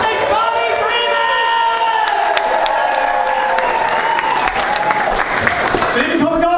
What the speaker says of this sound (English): Let's start with a base level of applause. A little bit more applause.